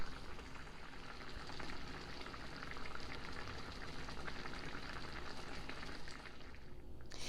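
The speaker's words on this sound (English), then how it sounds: "we're going to kind of let these simmer in this for a little while" Salisbury steak patties simmering in beef broth gravy, a steady close bubbling and sizzling that runs continuously without a break.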